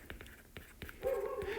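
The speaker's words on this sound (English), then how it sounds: "I'm not sure if you can hear my dog in the background." A dog barks in the background of a quiet room, giving a handful of short, faint, well-spaced barks followed by a brief whimpering tone.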